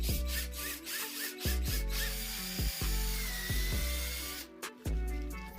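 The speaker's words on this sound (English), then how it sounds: "Drill out the syringe with a 6mm bit." A power drill whirs in short repeated bursts, its motor spinning up and dropping off several times as a 6mm bit bites into a plastic syringe.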